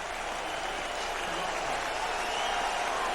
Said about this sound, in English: the crowd still in full throat right now as Will Demps gives them another reason to roar